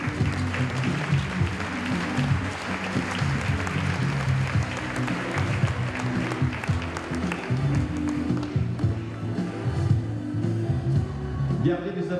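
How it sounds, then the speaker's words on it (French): Sustained audience applause at a graduation ceremony, an even wash of many clapping hands with some taps, mid-distance in a hall, continuing steadily throughout. "Gardez des applaudissements"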